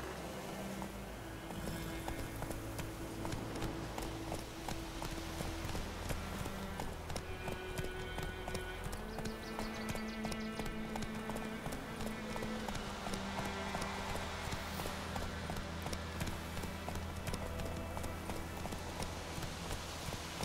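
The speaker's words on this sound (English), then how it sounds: "Strolling along on our horses." Horse hooves clip-clop at a steady walking pace in the video game The Witcher 3: Wild Hunt, over continuous background music, with faint game ambience throughout.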